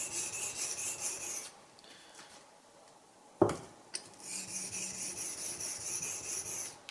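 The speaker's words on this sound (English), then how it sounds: "This is 220 grit King Waterstone." A Japanese plane blade rubs back and forth on a 220 grit King waterstone in short gritty rasping strokes, pausing midway with a couple of sharp taps before the steady scraping resumes, close and fairly loud.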